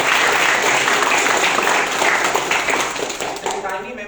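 A sustained burst of audience applause at a storytelling meetup in Jakarta: close, dense and steady clapping for about four seconds before it tapers off slightly at the end.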